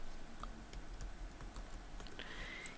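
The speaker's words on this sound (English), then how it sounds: "I'm going to type in the word wreath" Quick, light clicks of a computer keyboard as a short word is typed, a faint run of irregular taps close by in a quiet room, with a small chime-like tone near the end.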